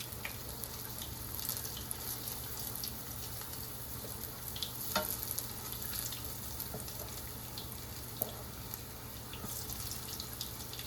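Hush puppies fry in grease in a skillet, making a soft, steady sizzle with a low background hum and a few faint clicks, with no talking.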